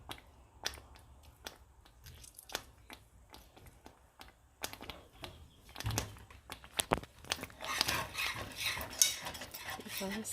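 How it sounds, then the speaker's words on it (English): A utensil scrapes and clinks against a pan, stirring seafood fettuccine in a parmesan sauce with Creole seasoning, parsley and lemon. The knocks are sparse at first, then turn into a denser, wetter stirring with a faint sizzle. "I'm going to keep stirring this for a little while."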